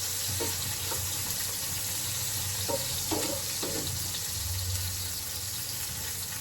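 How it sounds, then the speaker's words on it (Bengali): Green chilies fry in oil with lentil dumplings and coriander leaves, making a steady, soft sizzle with a few light stirring clicks over a constant background hiss. "বড়ি আর ধনে পাতা দিয়ে কাঁচা মরিচ ভাজতে হবে"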